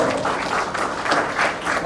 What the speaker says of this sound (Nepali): अझ ताली बजाउने छ।